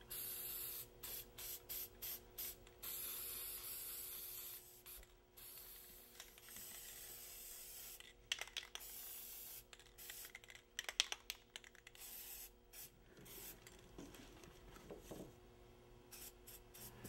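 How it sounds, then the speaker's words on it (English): Flat black spray paint hisses from a can in long and short bursts as it mists over an Aliens colonial marine prop helmet, with faint rattles and handling clicks between sprays. "I want to mute down the brightness by misting the entire helmet with flat black spray paint"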